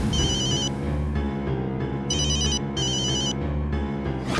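A phone rings with an electronic ringtone, bright repeating bursts separated by short pauses over a low musical background.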